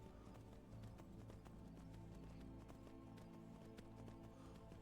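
Horse hooves clip-clop in a continuous quick rhythm in an Elder Scrolls video game, with steady ambient noise beneath the hoofbeats.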